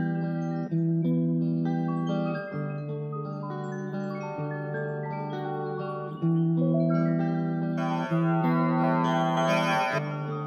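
Guitar run through Ableton 11's Spectral Resonator plugin gives sustained, layered resonant tones with shifting pitched harmonics, swelling into a brighter, shimmering texture toward the end, playing alone without talk.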